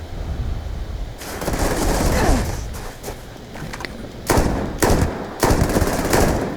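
Beowolf rifle gunfire in Starfield, several loud, separate shots and short bursts over a constant rumble of game ambience.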